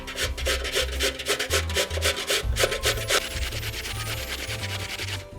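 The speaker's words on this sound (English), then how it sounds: "So we'll continue by grating our potatoes." Potatoes are rubbed against the small holes of a hand grater in quick, regular back-and-forth strokes, producing a close, rhythmic rasping scrape that continues without pause.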